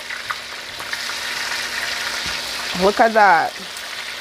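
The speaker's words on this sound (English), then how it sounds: "gonna brown it on both sides before we actually put them in the pressure pot" Oxtail pieces sizzling as they brown in a hot pan, a steady frying hiss throughout with a brief louder burst as pieces are turned, and a voice speaking briefly near the end.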